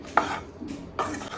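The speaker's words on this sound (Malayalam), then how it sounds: "എല്ലാം കൂടെ ഇളക്കി ശരിയാക്കി എടുക്കണം" A masala mixture stirred in a pan, two quick scraping sweeps of a spoon against metal, close and moderately loud, with no voices.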